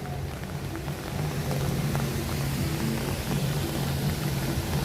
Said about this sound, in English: you can see it's not a heavy rain. It's just a sprinkle.